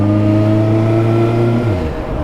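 A motorcycle pulling away in second gear, a loud close engine drone holding steady, then the pitch dropping and shifting as it moves off.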